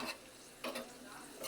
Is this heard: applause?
no